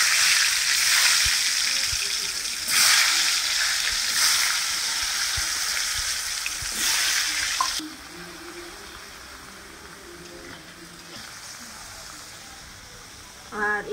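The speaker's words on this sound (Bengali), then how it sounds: "তো দেখো আমি তেল দিয়ে দিলাম, এখানে এখন আলুটা ভেজে নেব।" Potato pieces frying in hot oil in a pan, a loud dense sizzle with crackles for about eight seconds that then drops to a quieter bubbling fry, with no talk heard over it.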